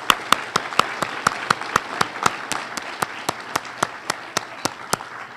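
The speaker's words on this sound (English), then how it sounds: "I want to start this off by applauding all of you for all of your hard work." Slow, evenly spaced claps ring out one after another, sharp and fairly close, with faint murmuring underneath.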